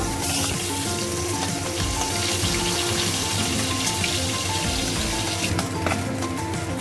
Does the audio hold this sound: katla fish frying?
yes